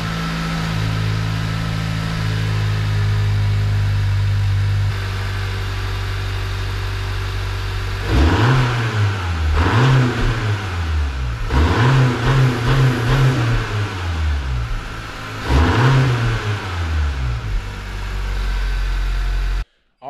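A Honda Civic Sport turbo engine idles steadily up close, then revs hard several times in rising and falling sweeps up to the rev limiter before cutting off.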